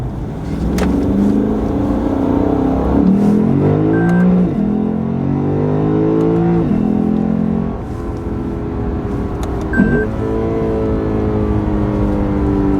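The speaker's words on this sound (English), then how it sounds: "throttle blips on downshift." A Lexus RC F car engine revs in sharp throttle blips on downshifts, the pitch sweeping up and down repeatedly, close and loud.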